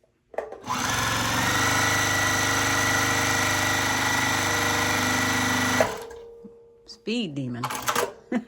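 A Juki TL-15 mid-arm quilting and piecing sewing machine stitches through layered fabric with the presser foot down, giving a steady, fast, close motor whir for about five seconds before stopping abruptly. Speech follows.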